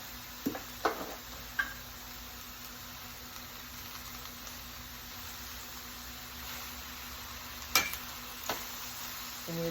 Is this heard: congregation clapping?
no